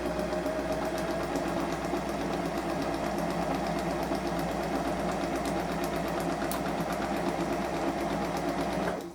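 A sewing machine running steadily while stitching a practice line with a back stitch, its fast mechanical whir and needle chatter close and continuous throughout, with no talking.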